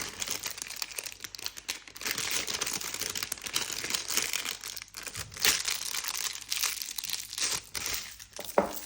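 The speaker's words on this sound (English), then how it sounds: "Twist your bag, make sure it's all pushed down from the top as much as you can." A plastic piping bag filled with royal icing crinkles and rustles steadily as it is twisted and squeezed down, close and continuous, with no speech.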